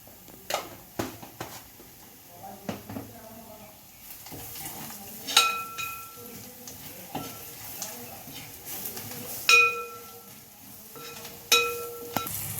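Chilli powder and spices frying in a pan for a koorka beef roast give a soft, steady close-up sizzle, broken by scraping stirs and a few sharp metallic clinks of a spoon against the pan.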